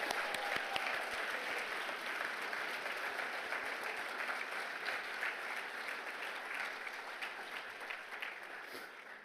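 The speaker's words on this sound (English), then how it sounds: "Let's give one last round of applause for our nominees," Audience at a university leadership awards ceremony giving a sustained round of applause for nominees, dense steady clapping that fades slightly toward the end.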